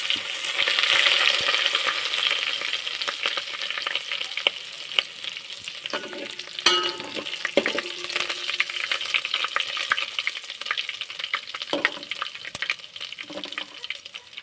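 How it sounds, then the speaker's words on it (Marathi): Ginger and garlic sauté in a hot pan with curry leaves and cumin for a cauliflower curry, a steady close sizzle with occasional stirring scrapes and clinks throughout. "मी आता परतून घेते"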